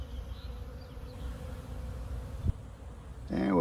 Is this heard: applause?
no